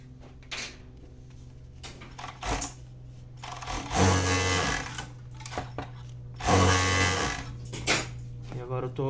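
A sewing machine stitches the cup onto a retro bikini top, with a low motor hum and two louder bursts of fast stitching, plus some handling noises between runs.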